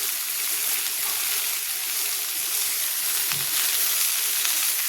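Fennel, cumin and nigella seeds sizzle in hot oil in an iron kadai, a steady, dense hiss that carries on without a break, close and fairly loud, with no talk.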